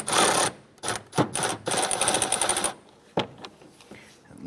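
A tool loosens the 10mm radiator shroud bolts on a 1994–2004 Chevrolet S-10 in several quick rattling bursts of metallic clicking, close and fairly loud, separated by short pauses.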